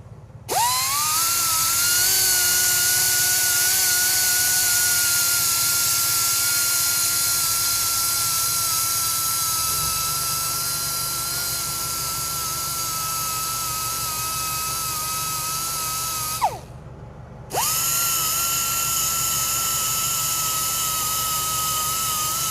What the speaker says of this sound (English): I'm going to hit it with the grinder before I sand it up and smooth it out